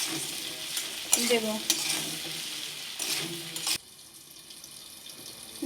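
Okra frying with salt in a pan, a steady sizzle and stirring scrape running under a few brief spoken words, then dropping to a quieter hiss near the end.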